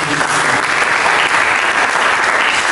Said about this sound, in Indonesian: Mari kita berikan tepuk tangan yang meriah bagi Yesus.